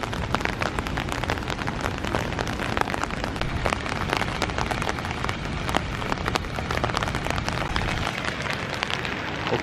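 Steady rain falls outdoors in Singapore, a dense even patter of drops hitting surfaces close by, continuous and fairly loud throughout with no voices.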